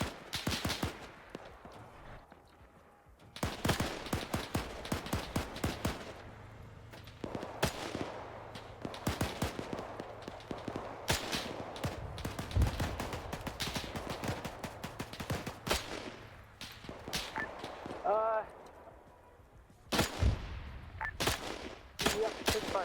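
Gunfire in Arma 3 during a World War II-era factory assault, with bursts of automatic and single shots cracking at varied distances, some near and sharp, others distant, with quiet gaps between volleys.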